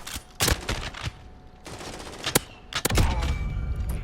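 R9-0 shotgun slugs fired in Modern Warfare, several loud booming shots spaced irregularly with sharp attacks and ringing tails, close and punchy with no talk over them.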